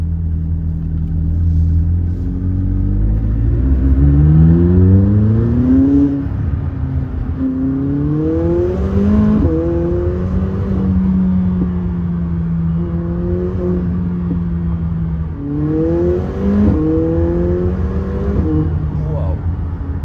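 A McLaren supercar's engine revs hard from inside the cabin, a loud, continuous rising and falling roar with rapid pitch sweeps, as exhaust flames fire; no talk over it.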